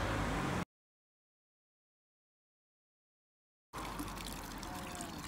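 A decorative front-yard fountain with a statue, beside the Camino Francés pilgrim route, sends out a steady splash and trickle of running water, broken by a long stretch of silence before the flow resumes.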